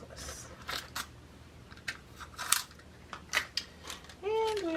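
Scissors snipping a length of necklace stringing material, several crisp close cuts spaced irregularly, with light handling noise in between and a brief squeaky sound near the end.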